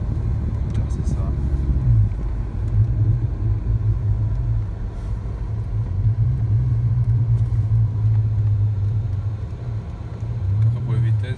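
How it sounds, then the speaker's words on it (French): Audi A4 with a 200 hp V6 engine revving hard as it pulls through the gears, a loud, continuous low drone that rises and falls steadily, close and with no talk. "Après pour les vitesses, en première, j'arrive au rupteur vers 50 km/h."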